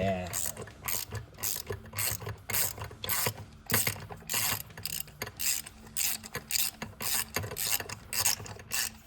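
Hand ratchet undoing a bolt while installing a catch can on a 2022-2023 Subaru WRX, a close series of quick clicking bursts repeated in an uneven rhythm.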